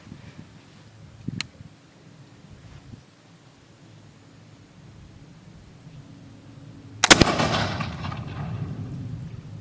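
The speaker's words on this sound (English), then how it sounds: "I'm going to shoot it offhand, and we're going to see how we do with this" Flintlock fowler gun fired offhand at a can, with a small sharp snap early on and then one loud close boom whose echo rolls away over several seconds.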